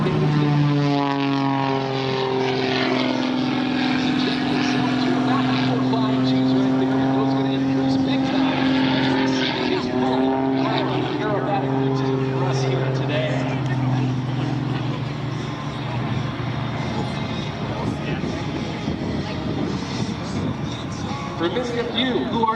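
An Edge 540 aerobatic propeller plane drones loudly and continuously overhead at the EAA AirVenture airshow in Oshkosh, its engine pitch shifting as it maneuvers, with an announcer talking over it throughout.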